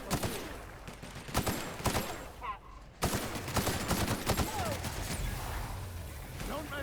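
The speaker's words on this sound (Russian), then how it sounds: "Сейчас посмотрим, как вот эта пушка будет стрелять." Gunfire from a weapon in The Outer Worlds, a series of sharp, loud shots in irregular bursts across the whole stretch, with a brief lull midway, under some in-game noise and a voice.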